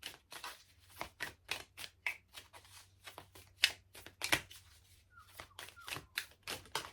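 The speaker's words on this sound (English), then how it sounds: "we're going to pull a couple of cards from the Celtic Tarot" Celtic Tarot cards being shuffled and pulled: quick papery riffles and slaps in an uneven rhythm, close and fairly quiet, with a brief pause partway through and no one talking.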